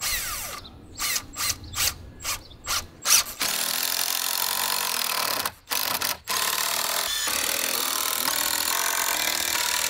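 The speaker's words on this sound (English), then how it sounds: "He bought premium screws for this job, and they say you do not need to pre-drill." A power driver whirs in short repeated bursts, then runs longer as a screw bites into wood without pre-drilling, with brief pauses between drives.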